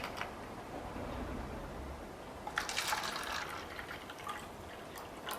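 Vinegar is poured for a baking soda volcano, giving a soft liquid trickle and splash that brightens into a fuller pour midway before easing off, quiet and close with no talking.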